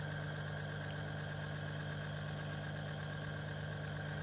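A National RS-755S reel-to-reel tape recorder motor spinning, rubber drive attached, giving a steady, dense mechanical hum and whir that holds constant and fairly loud throughout, with no voices.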